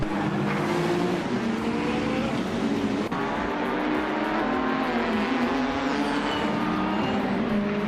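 Race cars, a 2019 BMW M8 GTE among Ferrari, Toyota and Corvette entries, roar steadily around a track, a loud continuous engine drone with shifting pitch and no clear pauses.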